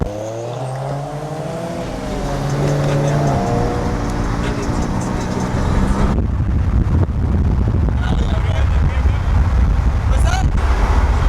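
Tuned BMW 335i engine roaring loud and close on a mountain drive, revs climbing and falling in steady pulls with a dense rumble throughout, tire noise underneath, and voices talking over it at the start.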